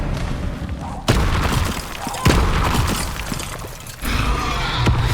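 Spells cast in a battle in Hogwarts Legacy, with loud booming impacts and crackling bursts over dense game noise, and a sharp hit roughly every second or so.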